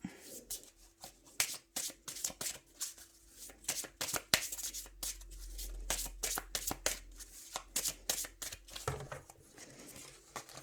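Tarot cards being shuffled and cut by hand up close, a long run of quick riffling card flicks and soft paper slaps in irregular bursts, fairly quiet, with a faint low hum underneath.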